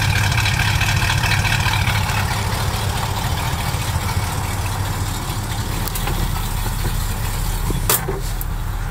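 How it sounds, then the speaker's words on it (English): A stock exhaust on a 1967 Ford Mustang V8 idles in a steady, continuous low rumble, close and even throughout, with no voices. "Exhaust sounds really nice and stock."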